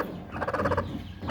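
A mother hen guarding newly hatched chicks gives a short burst of rapid, agitated clucks, close and fairly loud, lasting about a second.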